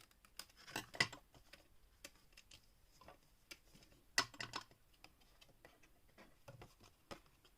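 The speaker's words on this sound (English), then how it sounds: "Go ahead and trim these off." Scissors snip through card stock for a pop-up card in a quiet room, making sharp close clicks and cuts scattered irregularly, with two louder snips standing out.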